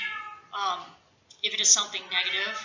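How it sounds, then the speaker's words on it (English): A cat meows indoors, short and close, between stretches of a man's lecture-style speech. "Sorry about the cat."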